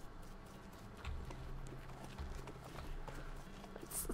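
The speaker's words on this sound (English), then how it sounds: "Let's hop on my horse." Horse hooves clip-clop steadily in the West of Loathing video game, a soft repeating trot against quiet background sound.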